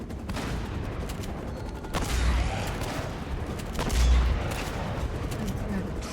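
Gunfire from the video game Uncharted, with two heavier bursts of shots rising over a steady bed of game noise, moderately loud and without speech.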